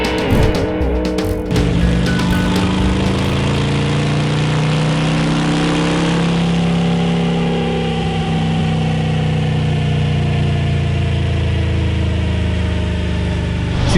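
A rebuilt 110 cubic inch motorcycle engine runs on a dyno during tuning, revving loudly and close up, then holding a steady, droning high-rpm pull that sustains for the rest of the run with no voices.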